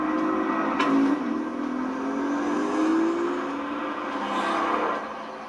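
Leon's car engine in a Resident Evil game trailer hums and revs with a rising, wavering tone, steady and fairly close, with brief swells over a low background.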